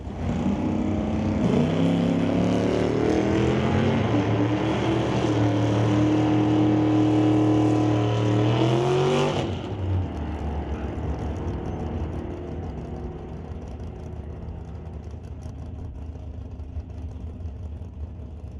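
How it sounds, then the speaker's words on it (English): Drag race between a 1976 Plymouth Duster and a 1973 Chevrolet Vega: two loud engines roar and climb through gears together for about nine seconds, then cut off abruptly, leaving distant rumble and crowd ambience. "the 1976 Plymouth Duster, racing against Chase McKenzie with that 73 Vega"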